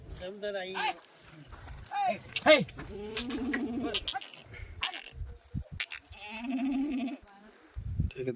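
Kathiyawadi goats bleat repeatedly, some calls near and loud, others overlapping further off, while people talk among the animals outdoors.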